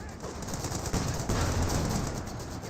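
Company of Heroes 2 battle gunfire with sustained machine-gun bursts and rifle shots in a dense, continuous clatter alone, as a Sherman tank comes under fire.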